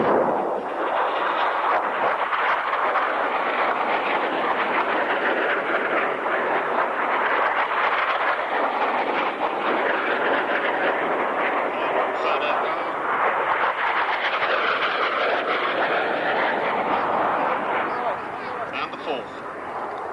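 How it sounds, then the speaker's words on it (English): Military aircraft making a mock attack on a convoy at the 1996 International Air Tattoo at RAF Fairford, a sustained roar of jets mixed with rumbling pyrotechnic blasts, loud and continuous over about twenty seconds. "another pair of aircraft attacking the convoy"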